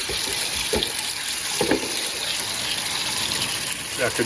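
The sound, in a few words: water washing a gold panning sluice mat into the pan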